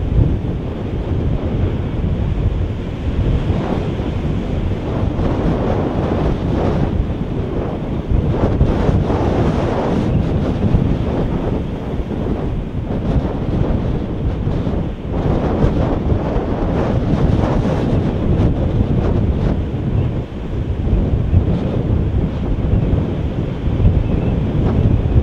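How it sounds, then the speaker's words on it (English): Waves crash against the rocks of a cove under steady gusting wind, a continuous broadband roar of surf and buffeting that holds loud and constant throughout. "got a view of the waves crashing against the rocks"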